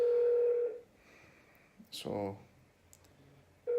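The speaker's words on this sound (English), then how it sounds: "just waiting on the phone to hopefully get through to someone to find out" A phone call to a TSB bank branch: a steady tone stops, then a short electronic chirp and a brief bright blip follow before the tone returns, close and fairly quiet, with a voice speaking briefly.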